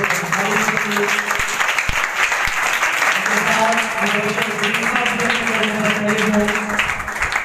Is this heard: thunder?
no